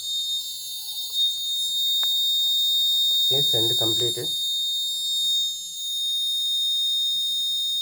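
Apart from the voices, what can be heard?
gas sensor alarm of IoT air quality system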